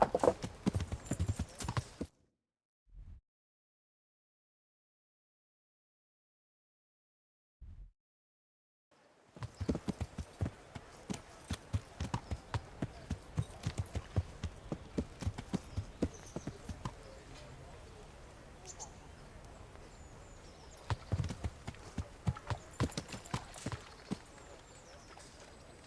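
Horse hooves clip-clop steadily while riding in the Kingdom Come Deliverance video game, a dense rhythmic clatter that stops for several seconds with only two isolated thuds, then resumes at a brisk pace through to the end.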